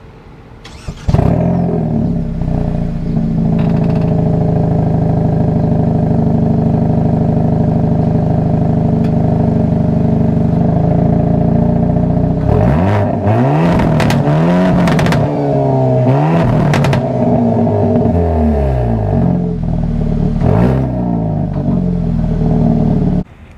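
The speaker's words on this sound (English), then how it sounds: "let's take a listen to that exhaust" A 2023 Hyundai Elantra N with a turbocharged 4-cylinder engine and large dual-tip exhausts idles loudly up close, then is revved hard several times with rising and falling engine pitch before settling back into a steady rumble.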